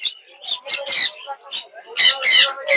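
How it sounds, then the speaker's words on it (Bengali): A pair of sun conure parrots at a Mirpur bird market call in repeated sharp, piercing squawks, loud and close, arriving in bursts with short gaps between them. "দর্শক দেখতে পাচ্ছেন যে সুন্দর এক জোড়া সানকুনোর পাখি"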